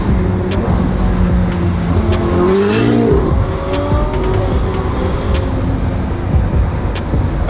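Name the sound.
Ferrari supercar engine revving and driving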